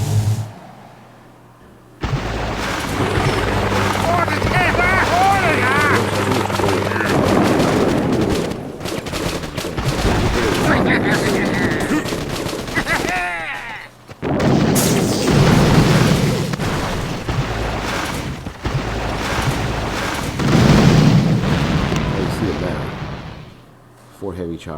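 Heavy choppers and bombers attack in the Boom Beach warships mode, with repeated booms, gunfire bursts and explosions rolling almost continuously at close range, broken by two brief lulls.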